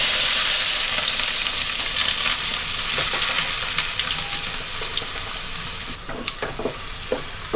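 Finely chopped onions fry in hot oil with bay leaves, garlic and cardamom, giving a loud, close, continuous crackling sizzle that eases slightly over time, with a few stirring scrapes near the end.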